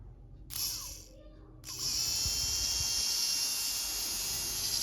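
A 775 DC ball-bearing motor spins up in two bursts, the first short, then a steady high-pitched whirring hum that runs on continuously, fairly close.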